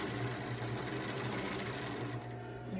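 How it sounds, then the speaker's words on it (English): A sewing machine runs steadily, stitching the long edge of a fabric face mask with a continuous mechanical hum and rapid needle rhythm, close and alone, easing slightly near the end. "Now stitch the long edge."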